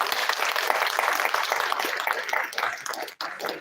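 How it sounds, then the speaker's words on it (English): A podcast audience claps together in a thick, continuous burst of hand clapping, fairly close and loud, dipping briefly near the end before picking back up. "let's give yourself a hand clap"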